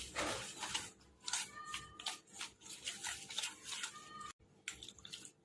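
Water poured in small additions into a yogurt-based batter for farali locho, a running, splashing trickle that lasts several seconds with one brief break near the end. No voices are heard.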